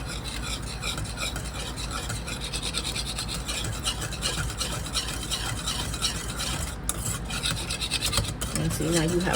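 A butter and flour roux for Southern mac and cheese stirred in a pan, a continuous close scraping and swishing with a faint bubbling sizzle underneath.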